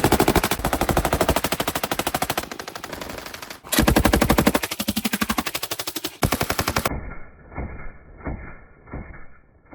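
A tuned Kalashnikov PK machine gun fires long rapid bursts, loud and close, with sharp evenly spaced reports in two sustained runs and a short gap, then a final quieter, muffled burst.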